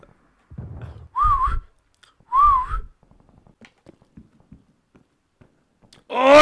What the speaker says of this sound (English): No, I've just whistled!